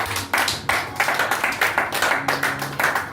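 A church congregation claps and applauds during a Pentecost service, with a brisk, roughly regular rhythm of sharp, close hand claps repeating through the whole stretch.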